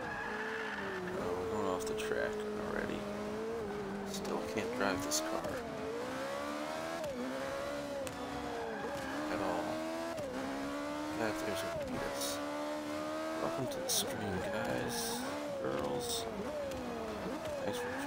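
Multi-class race cars in a racing video game, engines revving and shifting pitch with tire squeals and skidding throughout, steady and loud, with someone talking over the action.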